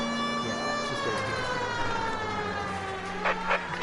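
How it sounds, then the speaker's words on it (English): Police car siren in the 1940s Los Angeles crime game LA Noire, a wailing tone rising and falling steadily with clear harmonics, loud and close, with two brief louder bursts near the end. "Turn our siren off."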